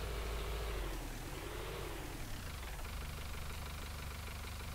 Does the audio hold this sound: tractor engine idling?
yes